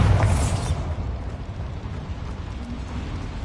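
A Bombarda spell explosion in Hogwarts Legacy opens with a heavy, loud blast, then settles into a dense, sustained rumble of debris and crackle that stays strong throughout.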